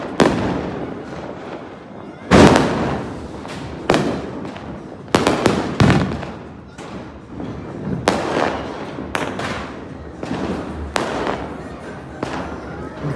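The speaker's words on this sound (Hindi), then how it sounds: "इतने सारे बम फट" Diwali sky shot fireworks burst in a rapid irregular series of loud booms and sharp cracks, some close and heavy, others quicker pops, while people talk over the display.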